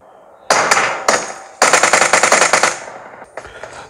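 Automatic gunfire from PUBG plays through the speakers of an Asus ROG Phone 5, coming as loud close bursts of rapid shots: a few short volleys, then a longer rattling string and a final quieter burst.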